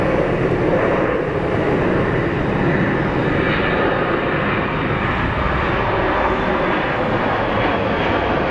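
An airliner departs Phoenix Sky Harbor airport, its broad jet engine roar loud and sustained throughout, filling the air with no voices over it.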